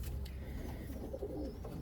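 Racing pigeons coo softly in a loft, low murmuring calls faint under a steady background hum, with no talk.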